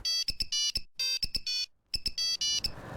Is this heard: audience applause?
no